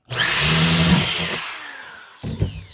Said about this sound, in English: So I want to drill a hole.